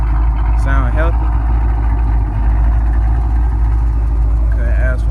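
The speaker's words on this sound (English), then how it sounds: "You can hear the growling, sound pretty good, sound healthy." A Whipple supercharged Dodge Charger Scat Pack idles with a deep, loud, steady low rumble throughout, nearby, with brief pitch sweeps near the start and end.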